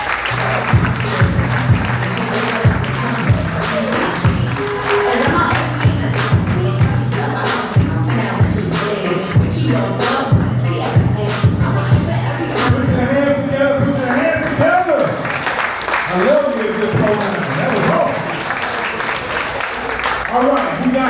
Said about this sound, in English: get the clapping, get the clapping